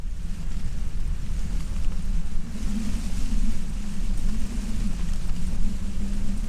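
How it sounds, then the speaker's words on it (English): Wind gusts on a clagged-in UK mountain wild camp, a continuous low rumbling buffet against the microphone that swells and eases without pause. "the wind has dropped a bit, becoming quite sporadic now"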